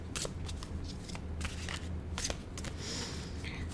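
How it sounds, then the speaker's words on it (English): A deck of oracle cards is shuffled in quick, papery riffles and flicks, close and moderately loud over a faint steady room hum, with no talking. "If you have a deck, you just kind of shuffle along until one pops out, just like that."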